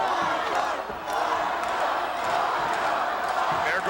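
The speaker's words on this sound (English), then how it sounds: "There goes the crowd again." A wrestling arena crowd roars and shouts at a WWF match, a broad, continuous wash of voices with a commentator talking over it.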